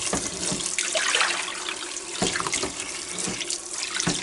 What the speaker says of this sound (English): what I do is just run the cold water over it so it gets completely